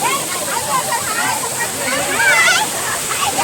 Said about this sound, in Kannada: ಪ್ರವಾಹ ಮಾತ್ರ ಜಾಸ್ತಿ ಇದೆ ನೋಡಿ